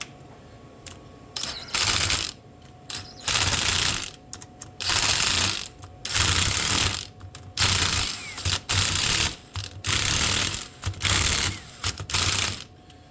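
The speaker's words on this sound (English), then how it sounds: "We'll get a ratchet on here." A hand ratchet tightens cylinder head bolts on a Honda ATC during a top-end rebuild, heard as repeated close, loud bursts of rapid clicking strokes in a steady rhythm with short pauses between them.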